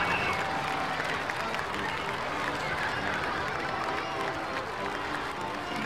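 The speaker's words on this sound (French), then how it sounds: "Tout le monde m'applaudit!" Dense, steady applause from a crowd in a video game fills the whole stretch at a constant level, with faint cheering mixed in.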